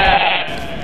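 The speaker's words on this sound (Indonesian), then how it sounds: "Hewan ini adalah domba." A single sheep gives one loud, close bleat that fades quickly, heard alone without talk.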